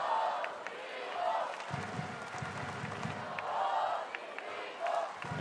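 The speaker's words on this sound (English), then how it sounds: "The crowd singing his name" Volleyball arena crowd at a men's Olympic qualifying match between Brazil and Bulgaria chanting an injured player's name, rhythmic massed voices rising and falling in waves, moderately distant and steady throughout.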